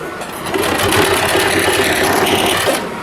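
A sewing machine stitches lehenga fabric in a steady, fast mechanical whir with rhythmic needle clatter, close and loud, with brief quieter moments at start and end.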